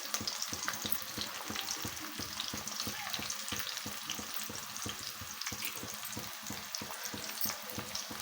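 Chopped onion and two or three green chillies frying in hot oil for a village-style chicken curry, a steady dense sizzle with rhythmic stirring scrapes throughout, close and continuous with no talk.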